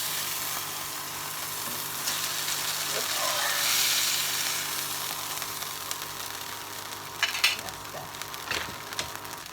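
Fish for a seafood paella sizzles in a hot pan with a steady close hiss that swells and fades, with a few light scrapes and clinks toward the end.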